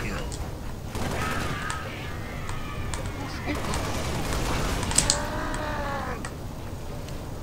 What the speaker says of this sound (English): Brutes. Sound like a brute.